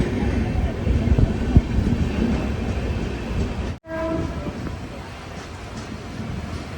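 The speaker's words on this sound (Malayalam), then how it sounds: "ട്രെയിൻ ഇപ്പൊ സിഹോർ ജംഗ്ഷനിലേക്ക് എത്തുകയാണ്" An express train rolls into Sihor Junction station in Gujarat. The wheels rumble and clatter steadily and close by, a brief dropout comes midway, and a faint tonal note follows as the running noise continues.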